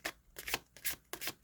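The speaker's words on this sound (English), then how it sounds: "Let's try shuffling it." A secondhand Good Karma Tarot deck being shuffled by hand, with four quick bursts of card rustling and flicking separated by short pauses, close and fairly quiet, no talking.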